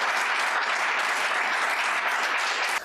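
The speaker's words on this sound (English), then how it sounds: "Please give Chris an extra round of applause." An audience at a poetry recitation championship applauds a high school competitor, a steady, full wash of clapping that holds evenly and then tapers off at the very end.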